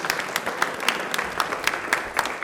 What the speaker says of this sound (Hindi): विचार के लिए वापस से तालियां प्लीज़ जोरदार हो जाएं